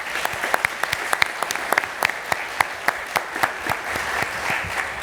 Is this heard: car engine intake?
no